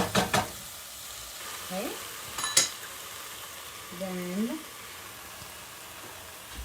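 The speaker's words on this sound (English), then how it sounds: "now I'm going to add our 1/4 cup of wine into here" Wine poured into a pot of sizzling mushroom risotto, giving a soft continuous sizzle with a couple of brief stirring scrapes and clinks, close up and fairly quiet.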